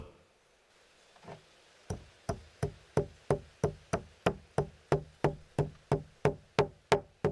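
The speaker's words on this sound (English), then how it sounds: "We grind the cumin in the mortar." Steady, evenly spaced pounding of a pestle grinding cumin in a mortar, sharp woody thuds repeating about three times per second, close and clear.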